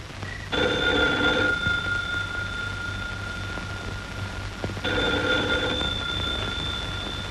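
A telephone bell rings in two separate bursts, each about a second long, with several seconds of quiet hiss between them.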